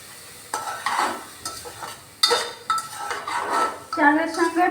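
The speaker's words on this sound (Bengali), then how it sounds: "এই জিরেটা আমি এখন চালের সঙ্গে নেড়ে নিলাম।" Cumin seeds being stirred into rice in a pot, giving scraping, clinking strokes of a utensil against metal that come in irregular bursts, close and moderately loud, with no voices.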